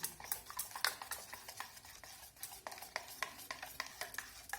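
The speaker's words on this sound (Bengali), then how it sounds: "লবণ আর ডিমটাকে ভালো করে মিশিয়ে নেব" Semolina batter with salt and egg being stirred, giving a steady run of soft, wet scraping and clicking strokes at a quiet level, with no voices.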